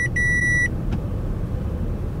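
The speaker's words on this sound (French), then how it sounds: "Pourquoi ça bip?" A car's warning beep sounds as a loud, steady electronic tone with a brief break, then stops, leaving low road and engine rumble underneath.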